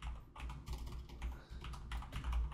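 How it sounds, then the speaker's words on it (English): Quick, irregular typing on a computer keyboard, close and quiet, with rapid clicky keystrokes in short bursts broken by brief pauses. "You have to type it."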